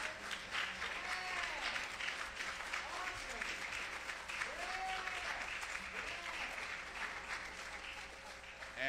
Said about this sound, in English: Let's give these another round of applause.